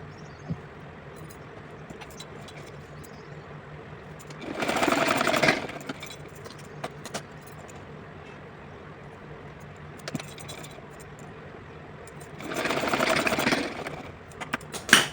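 Two bursts of a sewing machine stitching the folded side edges of a small summer outfit for a Krishna idol, each lasting about a second or two with quiet handling in between.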